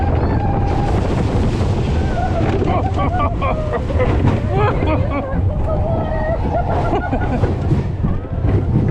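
Disneyland's Matterhorn Bobsleds rollercoaster sleds rush and splash through water, a loud continuous wash of spray and rumble, with riders' voices and crowd babble throughout.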